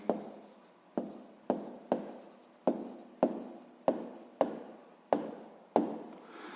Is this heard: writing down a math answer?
yes